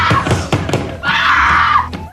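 A woman lets out a sustained, shrill hysterical scream lasting about a second. It comes after several dull thumps and knocks, close and loud, in a dramatic film scene.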